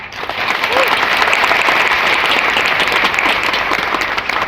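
A crowd at a Modicare event gives vigorous, sustained applause that holds steady and close throughout, with a voice speaking over the clapping.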